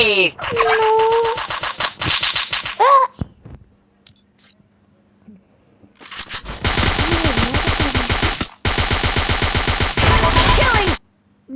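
Rapid automatic gunfire from a shooter video game rings out in long loud bursts, with a short burst early, a quiet gap, then sustained sprays in two stretches, with brief voice-like game sounds at the start.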